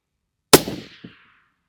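A single sharp rifle shot from a wind-bucking cartridge cracks loudly at close range, followed by a short decaying echo and a faint second report off the distance.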